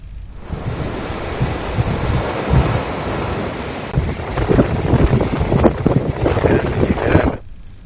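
A loud, steady roar of floodwater churning close by after heavy rain, released at five thousand cusecs toward the Kadem reservoir in Nirmal district, with gusts of wind buffeting the microphone throughout before it cuts off near the end.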